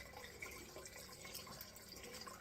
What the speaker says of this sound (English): Let me wash it all off.